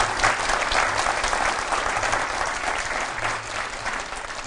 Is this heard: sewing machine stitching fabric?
no